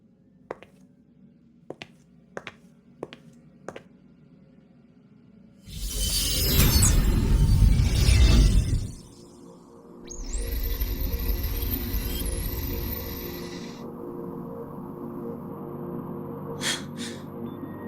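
White-noise space recording played back from a cassette in Wuthering Waves, the sounds the Far Watcher probe captured drifting through galaxies: sparse clicks, then a harsh noisy burst, a short pause and a second softer hiss with a thin whine, no voices.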